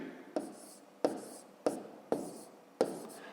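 Pen strokes writing numbers for a long division problem, five distinct taps and short scratches spaced about half a second apart, close and fairly quiet, with no talking.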